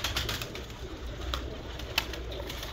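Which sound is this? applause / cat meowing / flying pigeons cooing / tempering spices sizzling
flying pigeons cooing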